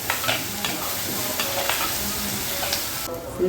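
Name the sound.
tomatoes cooking in a pan for bitter gourd gravy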